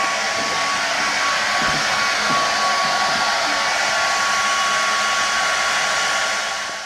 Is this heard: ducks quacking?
no